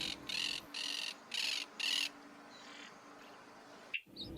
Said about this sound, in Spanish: Aparecieron nuevas aves como la cotorra